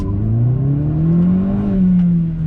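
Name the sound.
Opel Astra OPC 180 hp accelerating hard from standstill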